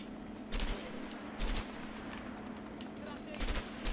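Shotgun fire in the video game A Way Out, three heavy blasts spaced about a second apart over steady background game noise.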